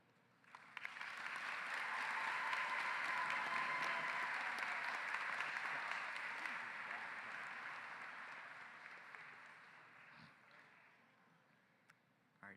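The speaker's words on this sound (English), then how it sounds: "Another round of applause for Hannah, Mason, Charlie, and Weiwei." Audience applause at a high school graduation ceremony, a dense sustained wash of clapping that swells quickly, holds steady for several seconds, then gradually thins and fades out.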